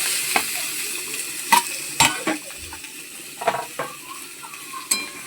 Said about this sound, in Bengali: মশলা দিয়ে ভালো করে আবারও কষিয়ে নিচ্ছি।